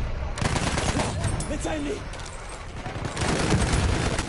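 Rapid automatic Ribeyrolles rifle fire in the video game Battlefield 1 rattles in dense loud bursts with a short pause midway, while a voice speaks briefly over it.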